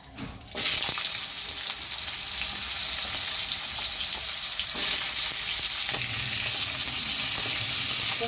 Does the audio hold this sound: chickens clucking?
no